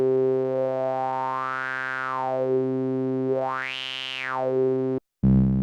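A buzzy Vector synthesizer tone sweeps slowly up and down through a resonant bandpass filter twice, then cuts briefly before a lower held note starts.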